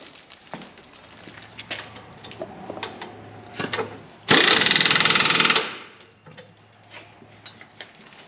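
A 2000 Ford F150 tie rod end nut tightened with a power tool: a loud ratcheting burst of about a second and a half, surrounded by scattered wrench clicks and metal clanks.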